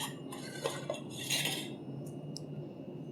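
Grated raw mango stirred in a pan over low gas for mango jam, with a spoon giving light scrapes and a few soft metallic clinks, close by and fairly quiet.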